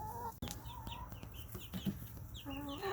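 Young chicks peep in short, high calls amid the low clucking of nearby backyard hens and a rooster, the sounds scattered and fairly quiet in a garden setting.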